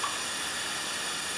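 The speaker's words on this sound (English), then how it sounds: "oil in and we get that to fry ever so gently" Oil frying gently in a stick-prone pan with vegetables for minestrone soup, a steady soft hiss and faint sizzle held at an even level throughout with no talking.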